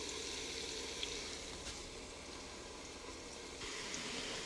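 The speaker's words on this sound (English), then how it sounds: "now our onion mixture has been frying for quite some time now and is starting to turn brown" An onion mixture sizzles steadily in a Ninja cooker while chicken biryani is being made, making a continuous broadband crackle of frying. The level stays even, with a faint stir or clink now and then.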